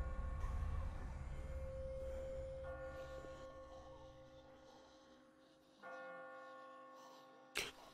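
Church bells toll in The Walking Dead video game, a sustained ringing with a long decaying hum, followed by a second struck tone near the end and a brief sharp knock just after, with no talking.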